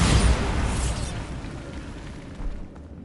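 A Bombarda spell explodes in Hogwarts Legacy: one loud, deep blast at the very start that rumbles and fades over a few seconds, followed by faint debris and a small pop near the end.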